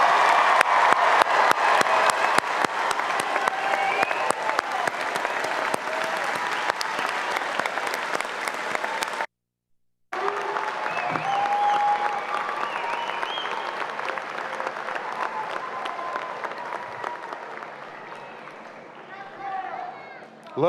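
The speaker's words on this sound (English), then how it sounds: "Let us applaud the recipients of the baccalaureate degrees and all graduates." A big crowd at a College of Liberal Arts graduation ceremony applauds graduates and degree recipients, long sustained clapping with cheering mixed in, cut by a brief silent gap midway, then fading as talk comes up near the end.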